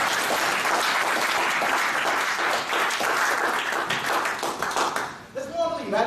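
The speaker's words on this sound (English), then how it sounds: "A round of applause for the table topics" Audience applause at a Toastmasters club meeting, steady, dense clapping from a roomful of members that holds for several seconds before thinning, with a voice starting up near the end.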